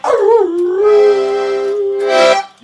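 A dog lets out a loud, close, drawn-out howl that wavers in pitch, then breaks into a higher yip at the end.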